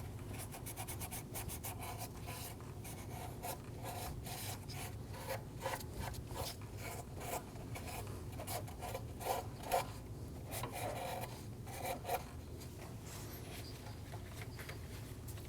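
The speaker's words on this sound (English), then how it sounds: "Using some parts cleaner and a clean rag, we're going to go around and clean our mating surface." A clean rag with parts cleaner rubs and scrapes across the intake manifold mating surface of a 2008-2015 Scion xB 2.4L four-cylinder, a steady, fairly quiet rasping with repeated short strokes and no talk.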